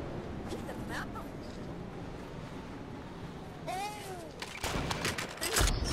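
Sniper fire in an online shooter match, with sharp cracks and whizzing shots among a dense wash of game noise and distant gunfire, a burst of louder firing near the end.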